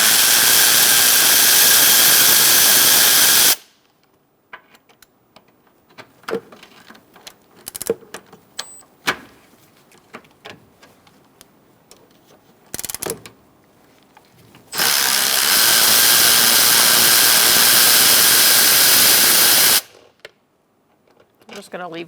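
A power tool whirs loudly in two long sustained bursts while removing bolts from the lower airbox of a 2002-2006 Toyota Camry 2.4, with clicks, clatter and a short whir in the quieter stretch between them.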